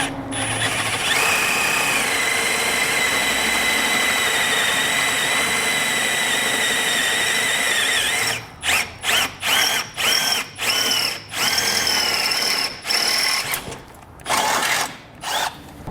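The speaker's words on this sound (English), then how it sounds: "So take my bit and get these holes drilled out." A power drill bores bolt holes for an etrailer Invisible Base Plate Kit on a 2019 Chevrolet Equinox, whining steadily and loudly for about eight seconds, then cutting in and out in a string of short bursts.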